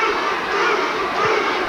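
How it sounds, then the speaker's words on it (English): Boxing arena crowd at the Oliver McCall vs Bruce Seldon fight, a dense, steady roar of many voices chanting together, loud and close, filling the space without a break. "Crowd taking up the chant"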